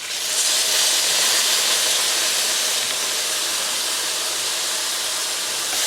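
Soy sauce hitting a hot pan of eggplant, mushrooms and tofu, bursting into a loud, steady hissing sizzle that holds close throughout, with no voices.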